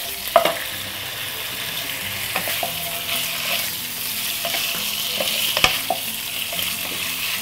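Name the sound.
pork pieces browning in a pan, stirred with spoons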